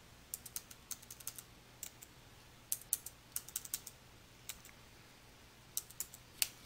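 Close, light typing on a computer keyboard: irregular bursts of crisp key taps with short pauses between them, alone against a quiet background.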